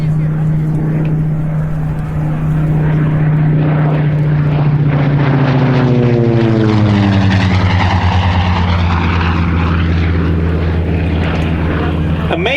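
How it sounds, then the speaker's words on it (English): Wright Cyclone radial engine of a Curtiss SBC Helldiver biplane running at an air show, a loud steady propeller drone whose pitch drifts and shifts, continuous and close throughout. "Let's listen to the sound of that Wright Cyclone engine."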